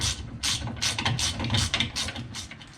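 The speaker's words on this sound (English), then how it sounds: "these are a 1/2 inch or 13 millimeter. Just tighten this down." A ratcheting wrench tightens a 1/2-inch (13 mm) nut while installing a net on a Gator 590i, giving a steady, close run of rapid clicking strokes with no talk.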